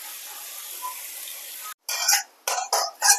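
A spiced paste, seasoned with kasuri methi, chili powder and black salt, sizzles softly in a pan, then a few short scraping stirs of a spoon against the pan follow after a brief pause.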